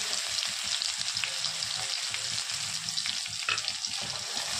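Cumin seeds and garlic frying in hot oil for a Maharashtrian pithla, giving a close, continuous sizzle and crackle that stays loud and steady with no talking.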